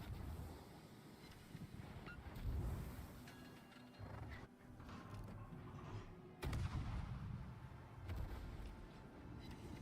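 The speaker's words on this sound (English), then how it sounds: "Coastal gun." A coastal gun firing in World of Warships, with heavy distant booms and rumbling blasts over a constant windy background, a few strong reports standing out.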